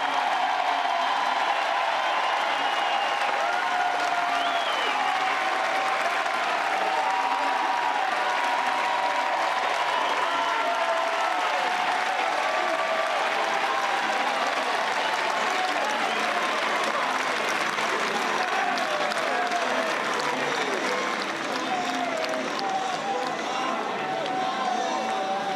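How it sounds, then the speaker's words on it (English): A Chapel Hill home crowd at a college baseball game between Arizona and North Carolina gives a sustained ovation, with dense, steady applause and cheering from a large stadium audience filling the whole stretch without a break. "listen to the ovation from this Chapel Hill crowd"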